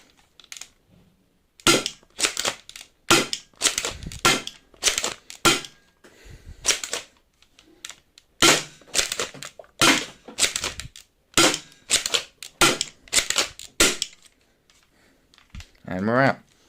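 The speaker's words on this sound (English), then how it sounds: "That was the firing demo of the Super Spamf" A 3D-printed Nerf Falconfire mod blaster with a 10 kg spring and 12 cm barrel fires new red Gen 3 darts, giving a rapid series of sharp, loud snapping shots in uneven bursts with brief pauses, close to the listener.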